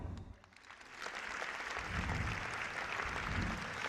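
Applause from a crowd builds and continues steadily, dense clapping filling the room.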